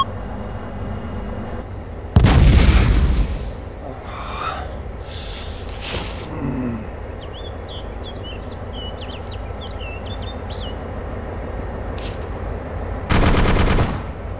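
Battlefield combat in the Arma II video game: loud bursts of automatic gunfire and sharp shots ring out at intervals over a quiet ambient bed with faint bird chirps between volleys.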